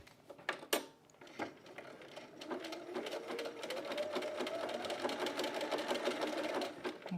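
A domestic sewing machine stitches a 3-step zigzag, starting with a few clicks and short bursts before settling into a steady, fast whirring run that continues close to the recorder.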